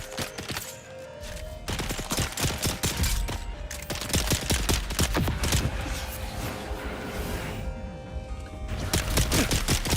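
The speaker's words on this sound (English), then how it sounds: "Hold on, I'm getting shot." Rapid bursts of video game gunfire pour in almost without a break, close and loud, like a player coming under sustained fire.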